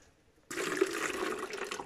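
Lime mixed into copper sulfate solution for Bordeaux mixture sloshes suddenly after a quiet half second, a continuous close splashing and swirling of liquid that carries on to the end.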